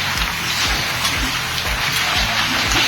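Dense, steady hiss of a heavy rainstorm in Chichawatni, Pakistan, with scattered thuds of large hailstones striking a surface nearby.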